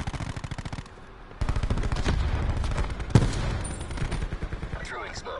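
Rapid bursts from the Stingray gun in Black Ops 4 rattle in fast repeated volleys, loud and close, with a brief lull before sustained firing resumes along with game effects.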